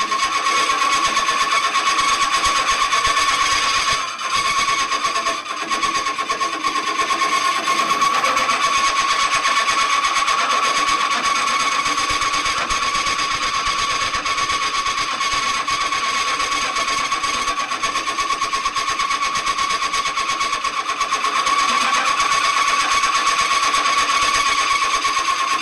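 A steady electric motor runs continuously, turning a converted Jaguar prop shaft that drives a PTO hydraulic pump, a loud sustained whine with a constant pitch and only a brief dip in load partway through.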